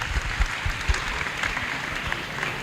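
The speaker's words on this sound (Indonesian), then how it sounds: "Tepuk tangan untuk Mas Taufik" Audience applause at a school event, a steady wash of clapping from a gathered crowd with some low thumps and rumble underneath, moderately loud and continuous.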